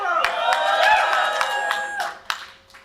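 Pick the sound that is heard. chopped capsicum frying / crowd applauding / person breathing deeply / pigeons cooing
crowd applauding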